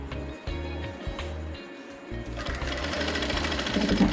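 Electric sewing machine stitching a fabric sleeve onto a garment, running in rapid rhythmic bursts with a short pause near the start, then a longer, steadier run close up.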